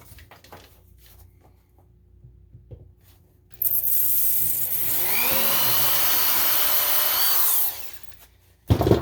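A drill bores a hole in a hard metal slider for a chromatic harmonica, starting abruptly and running as a loud, steady whine with rising shrill tones for about four seconds before winding down.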